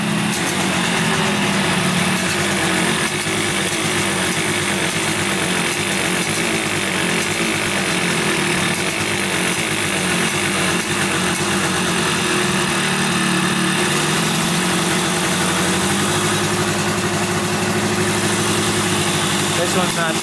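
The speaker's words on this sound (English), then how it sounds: "looks like it's only running on one cylinder here." A cheap old Yamaha two-stroke motorcycle engine, firing on only one cylinder, idles loudly and continuously up close with a raspy, uneven buzz; a person talks over it.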